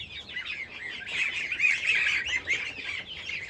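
Ducks and geese in a poultry coop keep up a steady chorus of quacking, honking and chattering calls. The sound is close, busy and continuous, and no one speaks.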